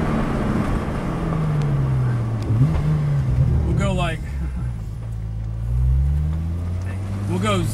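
Car accelerating hard on a road, engine revving with rising and falling pitch sweeps as it pulls away and slows, loud and close, with people talking over parts of it.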